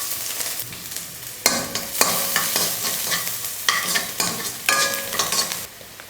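Finely chopped garlic cloves fry in hot oil, a loud close crackling sizzle broken by repeated bursts of spatula stirring and scraping against the pan; no talking.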